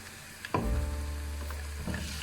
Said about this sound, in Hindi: आधी कटी लहसुन की जो मैंने चॉप की वो डाल देंगे।